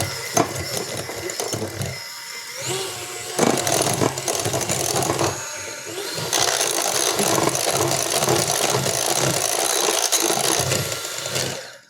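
An electric mixer works softened butter for a lemon tart, a moderate mechanical whirring that rises and falls with clattering beater knocks, starting and stopping in uneven bursts.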